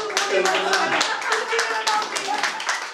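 Audience clapping at an International Women's Day program, a dense patter of hands that stays fairly even throughout, with voices mixed in underneath.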